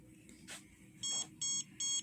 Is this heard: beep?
yes